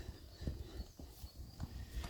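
Horse hooves beating during a dressage test, shifting from a canter-gallop to a trot, with repeated dull thuds in a steady rhythm fairly close by and no talking.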